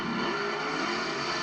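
Cars racing down a drag strip: a loud, continuous roaring engine and exhaust wash heard from a distance, steady and unbroken with no talking.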